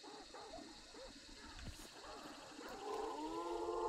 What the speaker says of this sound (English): Sound like they triggered the dogs again.